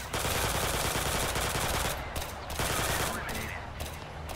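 Enemy pistol fire in a combat game, heard as a dense, continuous crackle of rapid gunshots with brief gaps near the end and some voices underneath.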